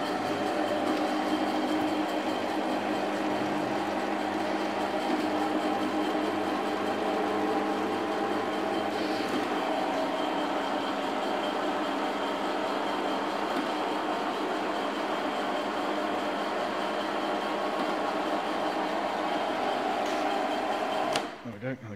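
A two post screw car lift motor raises the carriage with a continuous steady mechanical hum and whine that holds for about twenty seconds, then stops abruptly at the end.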